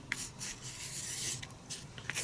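A Stabilo pencil sketches hair strokes on paper in a face drawing, giving a steady close scratchy rubbing with a few brief sharper strokes, alone with no talk.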